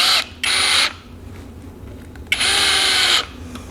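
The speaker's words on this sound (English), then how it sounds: "just attach your track with about 5 screws per section" A power driver runs two bursts, driving screws through aluminum track into a miter saw station fence; each whirring burst lasts under a second, loud and close, with a short pause between.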